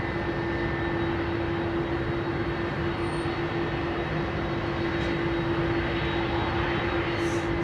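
A Boeing 767-400 jet at London Heathrow Airport gives a loud, continuous engine roar with a steady tonal whine, holding constant throughout without any voices.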